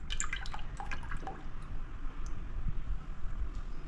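A gram flour mixture poured into buttermilk for Kathiyawadi kadhi, a steady, close liquid splashing and dripping that runs throughout without any voices.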